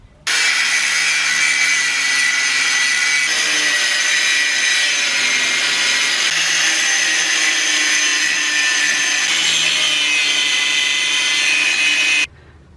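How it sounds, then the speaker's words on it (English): Power grinder smoothing down metal on an Evo 5 transmission part, a loud, steady high-pitched whine running unbroken for about twelve seconds with slight shifts in pitch as it bites, then cutting off abruptly. "Now I'm going to just go ahead and grind everything down nice and smooth."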